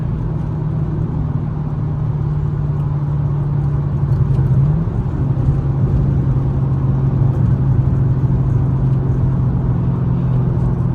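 Chevrolet Camaro SS engine droning steadily while cruising at night, its pitch shifting around midway as it changes gears; loud and continuous from inside the car, no talk.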